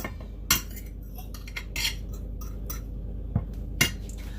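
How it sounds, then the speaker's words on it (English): Chickpeas mashed in a dish with utensils produce scattered metallic scrapes and clinks of cutlery on the bowl, a few sharper knocks standing out against quiet mushing in between. "on the other side of the dish, I'm going to mush everything back up again on one side"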